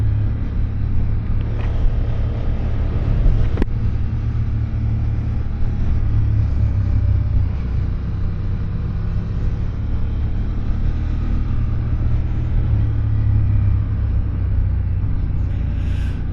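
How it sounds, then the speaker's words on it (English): A Honda CB750 Hornet motorcycle engine drones steadily while riding and cornering, a low, loud rumble mixed with wind buffeting, with a few slight throttle swells and no talk. "It feels so pleasant cornering this bike, and a little punchy throttle handle."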